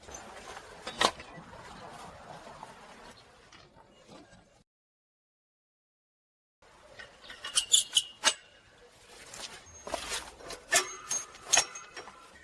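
Hand winch ratcheting as it tightens a cable around a whiskey barrel frame, sharp clicking bursts in two separate spells split by a few seconds of silence, close and fairly faint.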